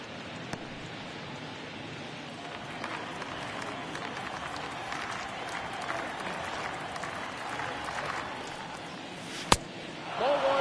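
A baseball stadium crowd at a Houston Astros at Angels game roars and cheers in a continuous broad wash, building slightly toward the end, with a sharp crack near the close.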